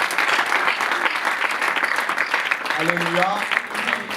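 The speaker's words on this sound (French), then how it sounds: "On acclame très fort pour nous." A church congregation applauds during a worship service, loud, dense clapping that carries on throughout while a voice calls out over it.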